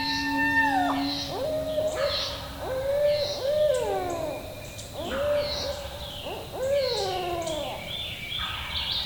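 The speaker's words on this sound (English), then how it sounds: "There's an owl." Owl hooting in a woodland during turkey hunting, a series of fairly loud rising and falling hoots repeated several times over steady background noise, with no one talking.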